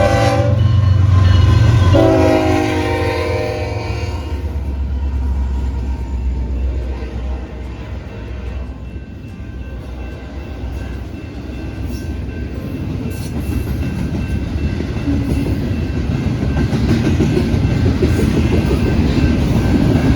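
At a train station in Cleburne, Texas, a train horn blares loudly near the start, then a train rolls past with a sustained rumble and clatter that builds again toward the end.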